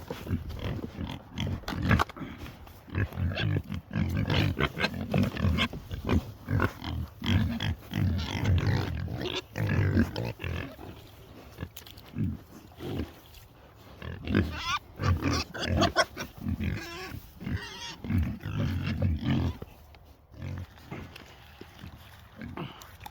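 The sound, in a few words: pigs and newborn piglets grunting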